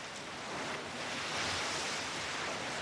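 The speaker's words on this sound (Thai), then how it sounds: "ในช่วงที่เกิดเหตุแผ่นดินไหวแรงสั่นสะเทือนก็ทำให้เกิดคลื่นยักษ์คล้ายสึนามิ" Hotel swimming pool water surging in waves during the Nepal earthquake in Kathmandu, a loud continuous rushing wash of churning water with no pauses or voices.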